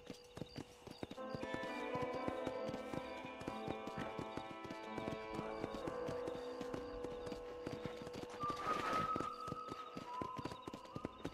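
Horse hooves clip-clopping at a steady trotting rhythm in the video game Red Dead Redemption, continuous and fairly close, layered over sustained tonal game music.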